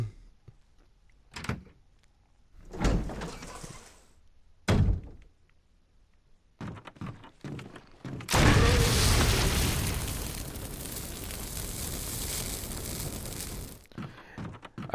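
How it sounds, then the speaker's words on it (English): Grenade launcher fire in Resident Evil HD Remaster on PS4: several heavy booming thumps spaced a few seconds apart, then a long, loud roaring burst that lasts several seconds before cutting off. "I do love how this grenade launcher does double duty."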